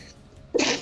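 A single sharp, loud sneeze bursts out near the end after a quiet moment, close to the listener, during a live radio show.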